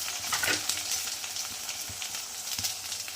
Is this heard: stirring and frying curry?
yes